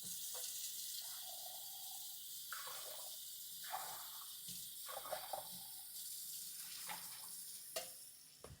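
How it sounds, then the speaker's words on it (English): Water runs and splashes in bursts while a cocktail shaker is rinsed out at a home bar, with short gurgles and clinks between pours and no talking. "once again, rinse out the shaker"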